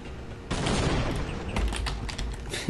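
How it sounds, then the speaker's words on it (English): A grenade sets off trip mines in the video game Half-Life, producing a sudden loud blast followed by a dense crackle of rapid detonations that fades slightly over a few seconds. "We're gonna disable these trip mines just by a simple grenade toss."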